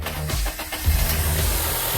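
A 2007 car with its hood up cranks over and settles into a steady, smooth idle, the engine close and loud throughout the short stretch.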